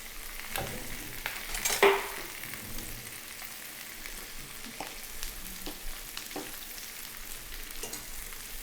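Steak sizzling steadily on a griddle, a continuous close frying hiss with occasional pops and a brief clatter of cookware early on.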